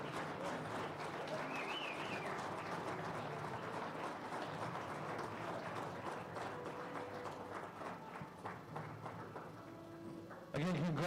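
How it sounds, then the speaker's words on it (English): Audience at a hall of fame induction ceremony applauding steadily, a dense wash of clapping with some cheering and background music, fairly faint and distant. "can we give one more big round of applause for all of our inductees tonight?"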